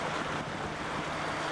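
Thames river cruise boat moving on water mid-river near moorings, a steady broadband wash of water and wind with a low engine hum underneath, continuous and fairly loud with no talking.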